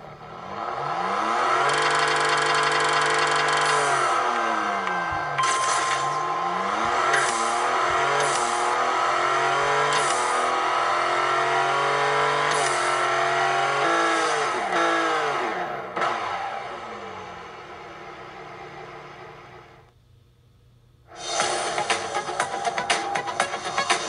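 A Lamborghini Murcielago in the Racing Rivals game revs and launches, its engine note climbing and dropping through shifts in a loud, continuous whine and roar, then briefly cutting out before surging back.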